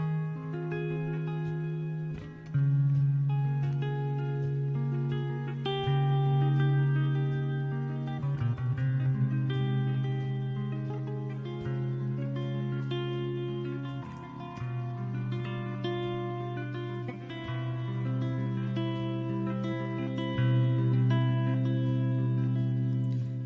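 A slow voice-led progression of sustained classical guitar chords rings out alone, each chord blending smoothly into the next at a steady, moderate volume.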